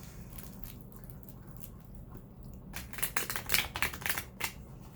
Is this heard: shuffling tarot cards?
yes